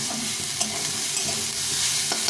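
Gourd peel stir-frying with potato and onion in a pan, a dense continuous sizzle with spatula scrapes and stirs, close and loud throughout.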